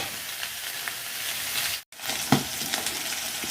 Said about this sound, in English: give it a few seconds, a few minutes actually, to fry in the oil that was in this spharia